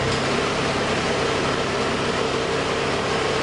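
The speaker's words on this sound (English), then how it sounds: "Start the engine, engage the PTO" A vacuum unit's engine runs with the PTO engaged, giving a steady, loud, unbroken drone with a faint tonal hum and broadband roar, close by and with no voices.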